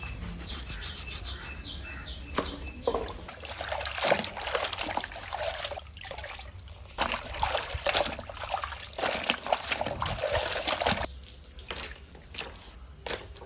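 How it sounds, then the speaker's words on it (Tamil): Motorcycle helmet padding is rubbed and squeezed by hand in a tub of water, giving continuous wet scrubbing, sloshing and dripping sounds close by with short pauses between strokes. "இப்போ நல்ல தண்ணியில் போட்டு லாஸ்ட்டாக ஒரு வாஷ் பண்ணிக்கலாம்"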